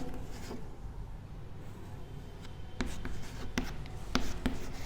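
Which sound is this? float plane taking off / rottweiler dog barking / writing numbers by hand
writing numbers by hand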